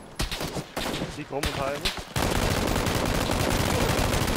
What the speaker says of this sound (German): Man schießt doch sehr.